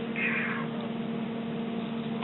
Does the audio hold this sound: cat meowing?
yes